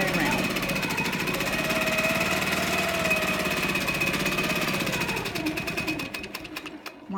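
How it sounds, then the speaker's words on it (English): A sewing machine runs steadily, stitching fabric around a double curvy ruler, with a fast even mechanical chatter close by that slows and stutters near the end; a voice talks over it. "I'm going to start stitching all the way around"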